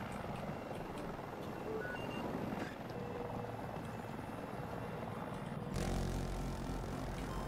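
Engine and rotor drone of a Hind attack helicopter in Battlefield 2042, a steady dense rumble throughout that swells louder near the end, with small in-game beeps and effects scattered over it.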